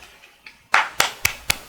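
A few sharp, close hand claps in a slow, even rhythm, four distinct claps following faint softer taps, with no talk.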